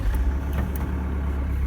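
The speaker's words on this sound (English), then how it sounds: "let's get this engine started" A Toyota Prado or Hilux diesel engine, fitted with new injectors and a remap and suspected of knocking, runs with a steady, loud, low rumble close by, with no talk.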